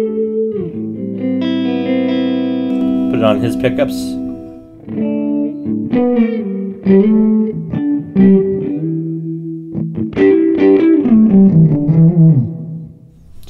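Electric guitar played through an effects unit with echo and distortion in a heavy style, loud sustained chords and bends with repeating echo tails, with a brief voice over the playing.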